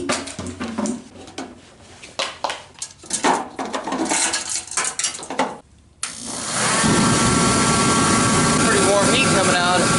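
Mr. Heater forced-air kerosene heater running on diesel starts up after a stretch of talk and clatter, then roars with a steady, loud broadband blast for the rest of the clip.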